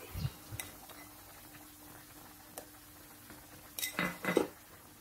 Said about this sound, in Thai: ละลายพริกแกงลงกับน้ำเลยนะครับ